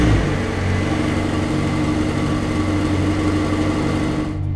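A supercar engine is started by push button after the brake is pressed, then settles into a steady, loud idle hum that runs unbroken until it cuts off at the very end.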